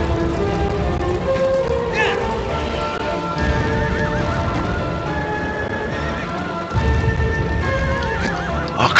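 Horse whinnies ring out several times over steady clip-clopping hooves in the game Shadow of the Colossus, loud and close, with a continuous rain-like hiss in the background.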